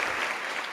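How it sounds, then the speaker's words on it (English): A round of birthday applause from a group celebrating a man's 27th birthday, a short dense burst of steady clapping, fairly close and without voices. "Another round of applause for our man."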